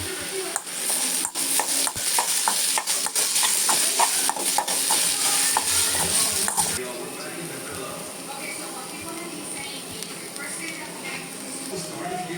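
Grated coconut roasting in ghee in a kadai, with loud sizzling and rapid scraping stirs that stop about halfway, leaving a softer, quieter sizzle.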